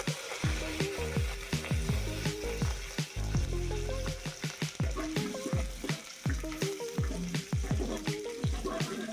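Dried red chillies and curry leaves crackling in hot oil for an Indian tamarind rasam tempering, a dense, close sizzle with frequent sharp pops and spatula scrapes running throughout.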